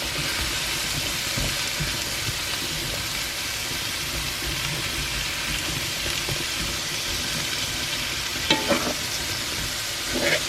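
Squash sizzles steadily in a pan on a hot gas cooktop at medium-high heat, with a utensil scraping and stirring through it and a few clinks near the end, close and continuous with no talking.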